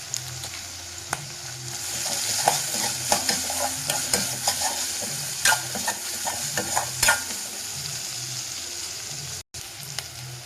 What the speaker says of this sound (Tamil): வெங்காயம் வதங்கினப்போ தக்காளி போட்டுக்கலாம்